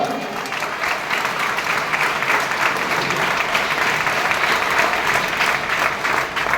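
An audience claps steadily at a religious discourse gathering, a dense, sustained wash of applause from many hands that holds at an even level throughout.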